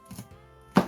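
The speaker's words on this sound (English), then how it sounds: "here's the time for us to start cutting our ginger, garlic and lemon" A knife chops ginger, garlic and lemon on a board: a couple of soft cuts, then one firm, sharp chop at the end, close and clear.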